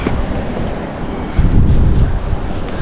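Cold wind blows hard across open sea off Taiwan, a steady loud roar with gusts swelling midway, likely mixed with wave wash near a fishing boat, no voices.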